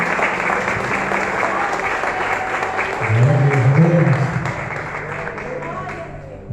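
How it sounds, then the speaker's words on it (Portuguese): Church congregation applauding during an evening worship service, sustained dense clapping from many hands with a low murmur of voices underneath. "Aplauda o Senhor"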